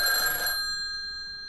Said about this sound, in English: that was just a damn phone.